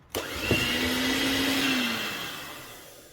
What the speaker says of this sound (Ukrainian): І вливаємо баночку згущенки потрошечки в масло і теж збиваємо.